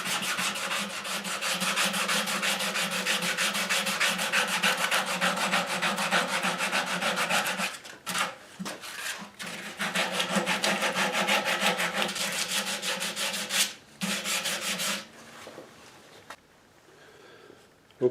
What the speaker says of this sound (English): now I'm just going to smooth it out a little bit more with some sandpaper, and then the heel will be done.